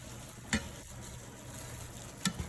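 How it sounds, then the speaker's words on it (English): Seasoned meat being stirred in a pan for lasagna, a steady low sizzle under two sharp scrapes of the spoon against the pan, no talking. "And then I'm just gonna stir that around."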